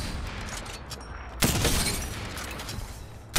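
Two sharp, booming shots from a Sentinel sniper rifle in the Apex Legends video game, the first followed by a long ringing tail, the second coming about two seconds later over a steady background hum.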